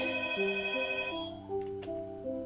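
A phone rings with a loud, steady electronic ringtone of stepped melodic tones, close and alone, with a small click near the end.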